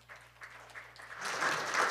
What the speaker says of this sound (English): So please welcome our panelists on the stage with a big round of applause.